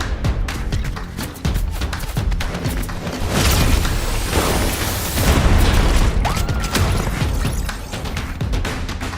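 Explosive liquid launcher blasts in a Fortnite Halloween match: a dense run of booms, pops and crashing bursts with mechanical clatter, loud and continuous over the whole stretch.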